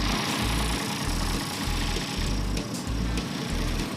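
An International truck engine idling steadily nearby, a low rumbling throb with a regular pulsing rhythm and no voices.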